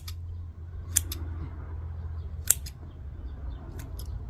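A few sharp, isolated snips of scissors cutting through damaged plant roots, close up, spaced out over a low steady background hum.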